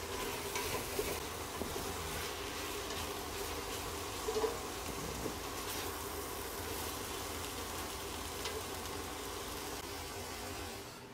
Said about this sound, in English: give that another stir.